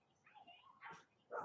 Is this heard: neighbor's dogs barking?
yes